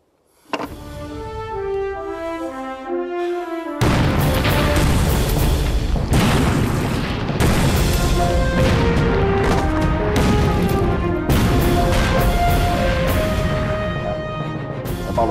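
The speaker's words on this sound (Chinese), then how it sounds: "给我狠狠的轰" Heavy artillery bombardment in a wartime drama set against the Eighth Route Army, with continuous booming explosions and rumble layered over loud dramatic music.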